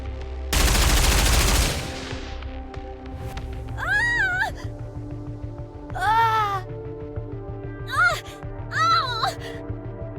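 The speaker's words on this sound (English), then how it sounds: "An experimental suppression round developed for Anichiro" A brief, loud burst of rapid gunfire from experimental suppression rounds in the video game Nikke, lasting about a second, followed by several short high-pitched character voice lines.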